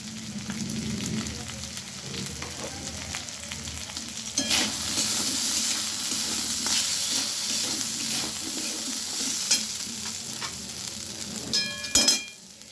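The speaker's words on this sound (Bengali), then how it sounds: "মশলাটা ভালোভাবে ভেজে নেওয়ার পরে" Cumin, coriander and turmeric powder fry in hot oil with a constant close sizzle, broken by scraping stirs and a few sharper clatters, with no talking.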